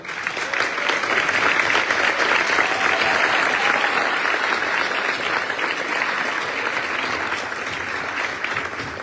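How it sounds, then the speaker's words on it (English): Steady, dense applause from a crowd honouring a sign maker at a high school gym dedication, loud and continuous throughout with only a slight easing toward the end. "stand up for a round of applause"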